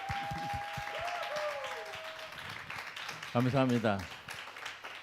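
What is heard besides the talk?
audience applause welcoming a pastor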